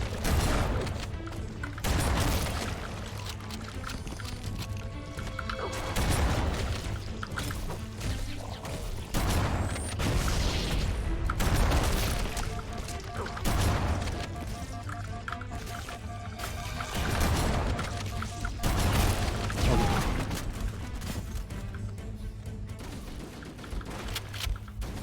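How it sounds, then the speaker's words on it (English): Video game battle noise, explosions and bursts of gunfire in a continuous, dense, loud barrage with heavy booms recurring every few seconds throughout and no talking. "I think it's obviously explosions and stuff that are killing me."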